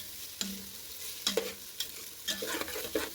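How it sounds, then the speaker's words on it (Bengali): Lentils and rice fry in a pan for khichuri, with a soft sizzle and several separate scraping stirs of a spoon, close and fairly quiet, with no voices. "তখন ডাল চালটা ভাজা হয়ে যাচ্ছে।"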